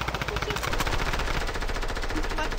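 Rapid automatic gunfire in the video game Fortnite: a dense, continuous burst of shots at an even, fast rhythm, loud and close, lasting the whole moment.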